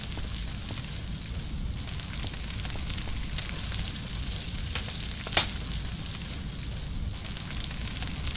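Food roasting over a campfire in the survival game Stranded Deep, a steady soft crackling sizzle like light rain, continuous and even with one brief sharp tick partway through.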